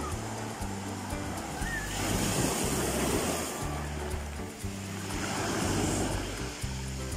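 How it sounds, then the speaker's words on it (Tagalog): Waves wash and surge continuously, swelling and easing in broad cycles, with a low steady rumble underneath and no talking. "Sarap pong pagmasdan yung mga alon."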